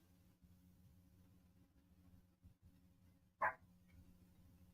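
A dog outside the house gives a single short bark, wanting to be let in, standing out clearly over a steady low background hum.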